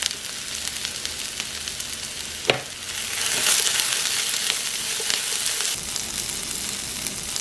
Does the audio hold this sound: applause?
no